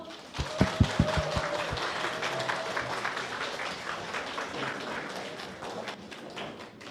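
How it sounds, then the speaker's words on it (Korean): A few loud claps ring out at the start, then a lighter scattering of applause continues from an audience welcoming a speaker to the stage at a Korean business presentation. "큰 박수로 맞이해 주십시오"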